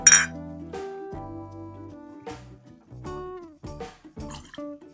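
Absinthe, 30 ml, poured into a glass for a cucumber cocktail, with a bright clink at the start followed by soft, quiet liquid trickles and small glassy taps spread across the moment.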